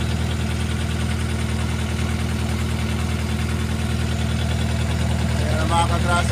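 Deutz oil-cooled engine with a clogged oil cooler idling steadily nearby, a continuous low rumbling drone throughout, with a faint voice over it.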